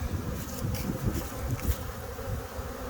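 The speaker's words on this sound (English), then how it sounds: "These bees, like there's one right there that's starting to fan the pheromones around." A steady swarm of honeybees buzzing close by around a hive, a dense continuous hum with individual insects swelling louder as they pass near.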